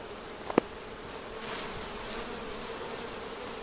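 Steady buzzing of honeybees being shaken down from a hive fills the background, with a couple of brief clicks early on and a slight swell in the hum partway through.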